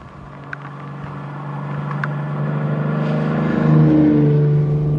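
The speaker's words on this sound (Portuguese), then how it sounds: "Parece um pouco indigno ficar acelerando assim, mas o som é tão bom que eu meio que não consigo evitar." Lancia Aurelia B20 engine idling and then rising as it is revved, a loud, close mechanical drone that climbs in pitch and volume toward the end.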